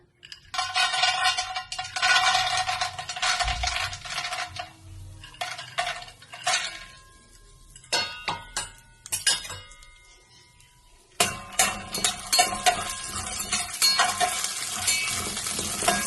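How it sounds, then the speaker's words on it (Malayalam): Chickpeas sizzle and rattle as they are roasted in ghee in a pan, with irregular bursts of crackling and scraping stirs, quieter pauses in between and a loud renewed fry toward the end. "കടലൊക്കെ ഒന്ന് കുറച്ച് നെയ്യിൽ വറുത്തെടുക്കാം."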